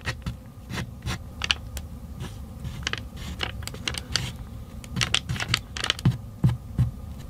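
Petroleum jelly, sunblock and graphite being stirred into homemade thermal paste, giving a steady run of close, irregular scraping and clicking taps over a low rumble, with no talking.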